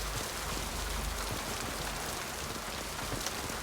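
Steady rain falling on surfaces in the video game Mass Effect 2, a dense continuous hiss with scattered drop patter, even and unbroken throughout with no voices.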